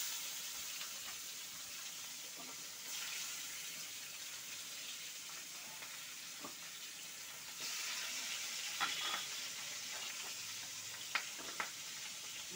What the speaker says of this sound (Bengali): এবার বাকি মাছগুলি আমি ভেজে ফেলছি